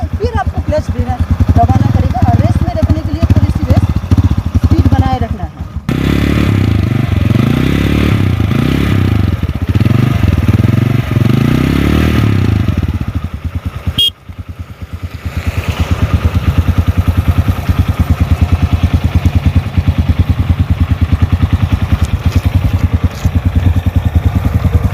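A kick-started motorcycle engine runs steadily throughout, a low loud rumble with a brief cut near the middle, while someone talks over it almost continuously.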